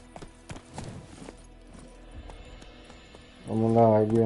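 Horse hooves clip-clopping in The Witcher 3, a scattered series of hoof knocks at a walking pace, ending in a loud horse whinny-like tonal call.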